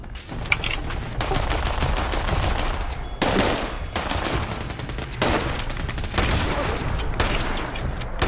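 Sustained automatic gunfire in the video game Fallout 76 inside Big Bend Tunnel, loud rapid bursts of shots close by with short breaks between volleys.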